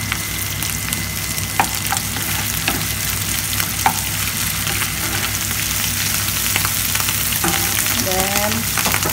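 Tuna flakes fry in a pan with a steady, close sizzle and crackle that holds throughout, marked by a few light stirring clicks and scrapes.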